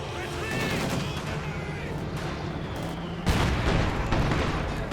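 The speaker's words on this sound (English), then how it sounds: "Panzergrenadiers advancing but quickly suppressed by the Dushka." Dushka heavy machine gun fire in Company of Heroes 2 rattles amid a dense wash of battle noise with other weapons and a sudden loud burst near the end, while a commentator talks over it.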